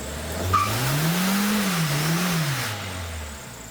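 A budget rallycross car's engine rises and falls in pitch in one smooth rev, with tire squeal and a faint ticking under the steady drone, heard from nearby without talk.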